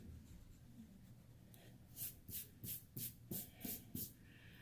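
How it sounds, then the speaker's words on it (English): A pencil eraser rubs out receding lines on a one-point perspective drawing on paper, six quick, faint back-and-forth scrubbing strokes in a steady rhythm after a quiet start. "And then I don't need the receding lines anymore. And I can erase them."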